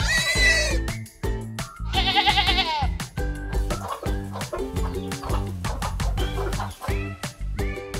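Livestock on jungle farmland, goats or sheep bleating loudly and close, mixed with clucking chickens, several overlapping calls in quick succession with no talk.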